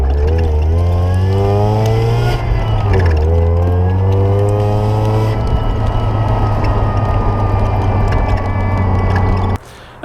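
A lifted Mazda Miata revs hard and rips around a lot, its engine note rising and falling in long sweeping pulls, loud and close throughout before cutting off abruptly at the end.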